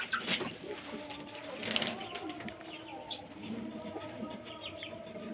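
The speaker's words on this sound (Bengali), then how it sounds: "পায়রা লং সাইজ বলছে শহীদুল ভাই।" Pigeons coo softly amid a busy backdrop of bird chatter, with a brief flutter of wings near the start.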